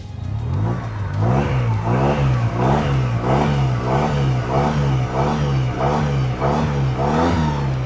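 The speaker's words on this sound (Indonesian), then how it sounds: "jadi sekarang bisa digeber nih" A two-cylinder Yamaha TMAX 560 maxi scooter engine revs repeatedly in a steady rhythm of rising and falling bursts, loud and close, with no talking.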